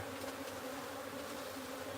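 A dense, steady drone of many bees buzzing around a wild beehive during its transfer to a new home, continuous and close with no pauses or voices.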